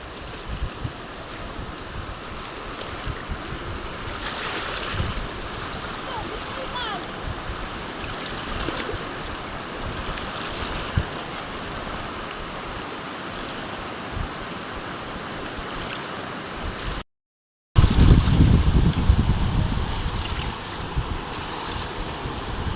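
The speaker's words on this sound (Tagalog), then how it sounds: "Oy, naglalaglagan na yung mga bato doon Oo, nalaki yung agos." A strong river current rushes in a steady, loud roar close by, with rocks tumbling in the swollen flow and a heavier surge near the end.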